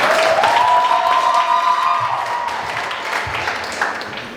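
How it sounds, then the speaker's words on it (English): Audience applause at a school book fair, a dense crowd clapping that fades gradually, with a sustained whistle-like tone over it at the start. "Give her a round of applause."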